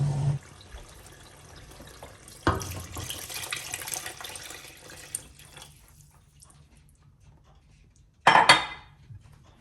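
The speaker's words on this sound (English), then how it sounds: "Just stir this and allow it to simmer for about 2 minutes" Stew with red kidney beans stirred in a pot, with a spoon clinking and scraping against the metal in a few scattered knocks and a sharper clatter near the end, over a low simmering background.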